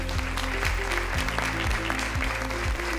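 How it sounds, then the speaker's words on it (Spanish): An audience at a Women's Week event applauds steadily and densely throughout, with a tonal, stepping sound like music or a repeated chime running beneath the clapping. "Así que un fuerte aplauso para ustedes."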